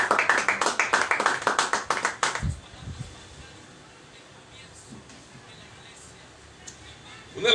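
A church congregation claps rhythmically in unison for a little over two seconds, loud and close, then stops abruptly, leaving a quiet room with faint shuffles and a brief stir at the end.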